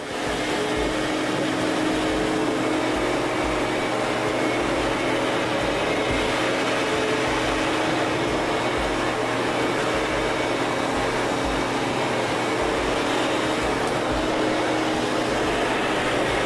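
A SIRENA water-based vacuum cleaner runs steadily over carpet, giving a loud, continuous motor hum with broadband airflow noise and a faint low rhythmic pulsing from the passes, with no voices.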